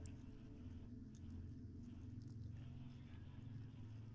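Hooves of a ridden horse clip-clop in a dark fairy-tale adventure video game, a soft, quiet patter of steps over a low ambient drone, with no talk.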